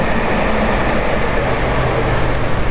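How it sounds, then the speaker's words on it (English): A train passes close by, producing a loud, continuous rumbling roar that holds steady throughout. "Here comes a train"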